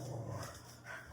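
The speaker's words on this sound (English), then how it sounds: "Hey, quiet down. Dogs are riled up." Dogs bark and yip in excitement at a moderate distance, one short, busy burst with no talking over it.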